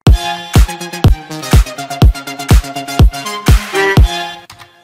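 A synth with LFO automation pumps through a rhythmic electronic drop, loud and close, with regular punchy hits and a wobbling, shifting tone across roughly five seconds.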